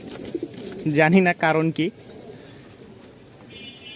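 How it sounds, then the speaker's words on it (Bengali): Restless fancy pigeons coo close by in soft low murmurs, partly under a brief spoken line from a man. "মানে সব কবুতর আজকে খুব ছটপট করতেছে"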